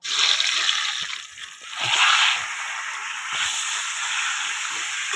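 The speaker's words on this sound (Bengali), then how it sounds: "শুকনা মরিচ দেব চার পাঁচটা নিতে হবে দিয়ে একটু ভেজে নেব আমগুলো ছেড়ে দেব" Ripe mango pieces go into hot oil with four or five dried chillies for a sugar-free pickle, producing a loud, steady sizzling hiss with a sharper surge near the two-second mark.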